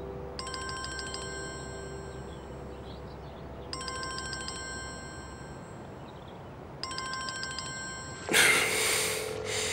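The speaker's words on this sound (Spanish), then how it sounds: "Atiende el teléfono, Ashley." A telephone rings in three evenly spaced electronic bursts, each a rapid trilling chirp, clear and close in a quiet room, followed by a brief rustling thump.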